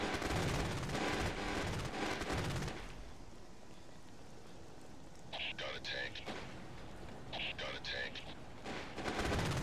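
Tank and small-arms gunfire in the PC tactical shooter Ghost Recon, with dense bursts of shots at the start and end and two short volleys in the middle, under a quieter lull.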